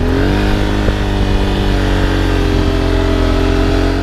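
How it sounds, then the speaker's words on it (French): A Honda Transalp motorcycle engine roars at full throttle while riding through sand dunes, a loud continuous droning rev held steady and close throughout. "on se dit qu'il faut essayer en mettant du gros gaz"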